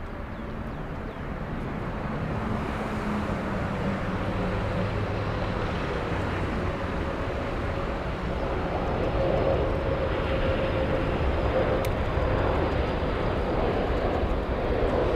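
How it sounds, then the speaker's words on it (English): A Boeing 747 arriving from Bengaluru comes in to land at Frankfurt airport, a continuous broad jet roar that swells slightly partway through, heard from a distance outdoors. "We'll go for the 747. This is the one flying in from Bengaluru."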